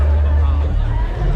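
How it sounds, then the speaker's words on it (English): A huge crowd at the India Bike Week festival: loud, dense babble of many voices and outdoor din, with nearby talking mixed in throughout. "Morning it was not much crowd and now you see how much crowd it is."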